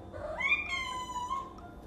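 A house cat gives a single clear, rising-and-falling meow, close and fairly loud against a quiet background, with no talking.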